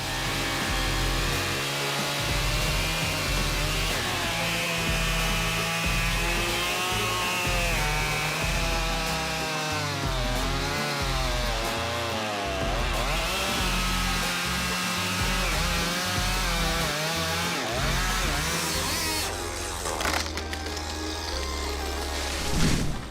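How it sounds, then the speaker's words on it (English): A Stihl MS881 chainsaw cuts into a giant tree about 30 meters tall, its engine droning loudly and wavering in pitch as it bites and revs through the long cut, alone without talk. "Thanks to the powerful style MS881 chainsaw and the craftsmanship of the craftsman, a giant tree up to 30 meters high was felled exactly where he wanted."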